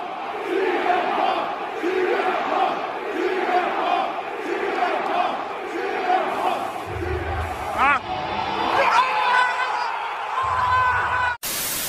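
Wrestling arena crowd erupting for a WWE return as the entrance music hits, a dense roar of cheering and shouting that stays loud and sustained throughout, with a few sharper bursts near the end.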